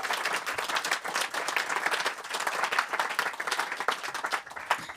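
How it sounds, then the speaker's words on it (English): An audience at a panel on Caribbean climate change applauds to welcome the panelists, with dense, steady clapping that fills the room at a fairly loud level throughout. "And a round of applause to have them here,"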